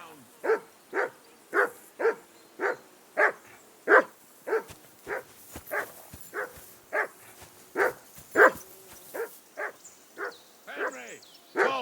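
Dog barking in the video game Kingdom Come Deliverance 2, a regular run of about twenty evenly spaced barks, fairly close and loud, with no talk over them.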